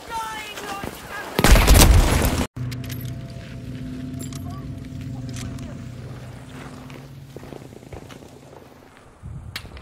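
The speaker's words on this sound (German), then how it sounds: "Granate ist in der Luft!" A grenade explosion in a video game gives a loud, sharp burst about a second and a half in, cut off abruptly, followed by a lower rumbling game ambience with faint crackles and a few distant pops.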